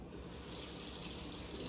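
Tap water running steadily from a faucet over a burn, a continuous close hiss and splash of flowing water with no break.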